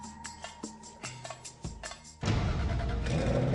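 The 4.2-litre V8 of a Jaguar XK ticks over with soft, uneven pulses, then suddenly opens into a loud, sustained roar as it revs.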